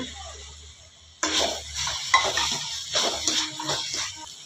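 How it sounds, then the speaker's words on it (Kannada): Peas being stirred into a cooked-down tomato curry in a pan: after a quiet start, a sudden rush of sizzling with repeated scraping and clinking spoon strokes against the pan, close and loud. "ಈಗ ಬಟಾಣಿ ಹಾಕ್ಕೊಂಬಿಡೋಣ"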